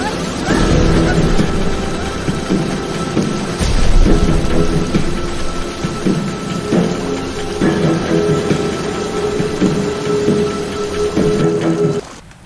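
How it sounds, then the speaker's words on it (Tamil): Heavy rain pours steadily while rolling thunder rumbles repeatedly underneath, loud and continuous until it cuts off abruptly near the end. "கனமழை பெய்தது."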